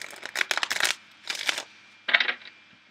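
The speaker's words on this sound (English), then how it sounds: "Let me do one more shuffle." Quick riffling bursts of tarot cards being shuffled, three short rounds close by with brief gaps in between.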